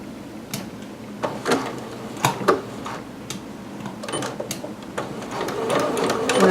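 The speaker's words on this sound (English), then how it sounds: "And then I'll start stitching a 5/8 inch seam." A home sewing machine stitches a 5/8 inch seam on a sewing-pattern garment, giving close, intermittent bursts of mechanical clatter and ticking with short pauses between runs.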